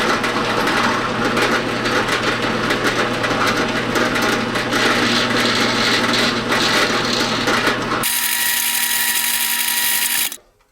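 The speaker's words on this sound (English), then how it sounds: "So let's drill those." A power drill whines loudly and steadily for several seconds while drilling mounting holes, its pitch shifting higher near the end before it cuts off.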